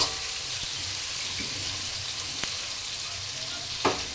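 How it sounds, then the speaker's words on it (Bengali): Onions fry in an iron wok with a steady, soft sizzle, broken by a few sharp clicks and scrapes as they are stirred. "পেঁয়াজগুলো ভালো করে ভাজো।"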